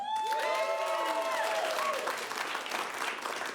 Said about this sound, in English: You're going to clap for everyone because they have fragile egos.